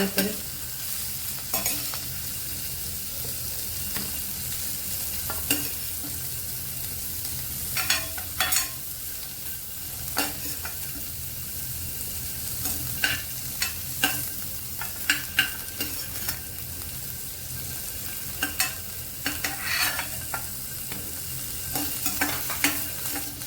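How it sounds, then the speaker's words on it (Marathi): Carrots fry in oil for a Kolhapuri-style mixed vegetable dish, a soft continuous sizzle broken by repeated scraping and stirring clatters of a spoon in the pan, with no talking. "गाजर सुद्धा फ्राय करून घ्यायचं"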